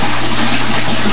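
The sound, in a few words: water gushing as a bell siphon starts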